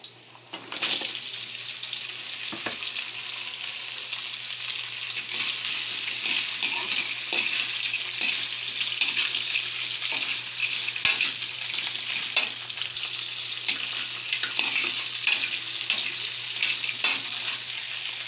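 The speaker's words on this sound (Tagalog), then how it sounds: "Ilagay na natin yung ating, of course, yung ating crablets." Crablets fry with garlic flakes in hot oil, a loud, continuous dense sizzle and crackle that holds steady from start to finish at close range, with no talk.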